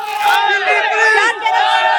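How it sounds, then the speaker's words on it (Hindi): A dense crowd of protesters shouts and chants together in unison, loud, raw voices filling the space continuously with a brief dip in the middle. "आप देख सकते हैं कि तमाम भीड़ आप लोगों को जन सैलाब देखने को मिलेगा।"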